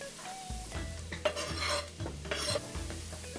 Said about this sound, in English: So I'm going to go ahead and just kind of stir this around.